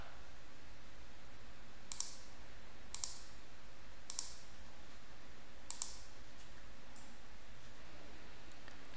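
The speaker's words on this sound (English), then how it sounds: "hover your mouse over the line, right click, then left click Format" Several crisp computer mouse clicks, spaced about a second apart, sound close up over a faint steady room hum, with no talking.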